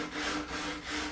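A wooden end panel's edge is hand sanded at a slight angle, a soft, steady abrasive rubbing in close strokes with a slight rhythmic swell, alone with no talk.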